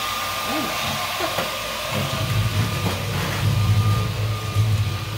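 A Dreame T10 cordless vacuum cleaner runs close by with a steady airy whine and thin tonal hum, its pitch shifting slightly as it moves across the floor.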